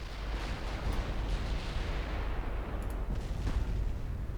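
Naval battleship guns in Ultimate Admiral Dreadnoughts thunder in a rolling barrage, with repeated deep booms layered over a constant low rumble and a few sharper crack-like hits.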